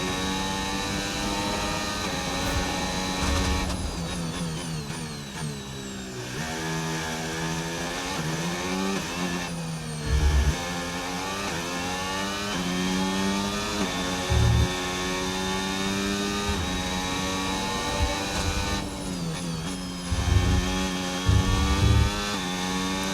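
A high-revving F1 car engine in the racing game F1 25 at the Australian Grand Prix screams through gear changes, rising and dropping in pitch with downshifts, loud and continuous.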